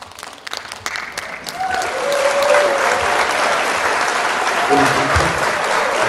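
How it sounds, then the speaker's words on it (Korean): An audience applauds a guest singer at a singing contest for people with disabilities at Yudalsan, loud sustained clapping that builds within the first two seconds and holds steady, with a few faint voices mixed in. "박수를 많이 쳐주시면 됩니다"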